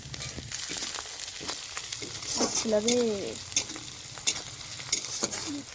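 Ginger and garlic sizzle steadily in a hot pan while a spoon stirs and scrapes now and then, the frying close and continuous, with a few brief voices in the background.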